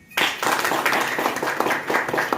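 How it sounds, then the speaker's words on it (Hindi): An indoor audience claps at a talk on becoming a millionaire: a burst of clapping starts abruptly after a brief quiet, with rhythmic, partly synchronized beats at a steady, moderate loudness. "इसके लिए शानदार ताली।"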